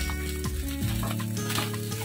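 Kadappa curry bubbles and spits in a pan with a soft, continuous sizzle after the stove is turned off, while steady background music plays underneath.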